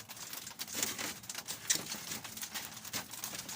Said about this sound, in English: Sounds like we might be getting a little bit of hail even.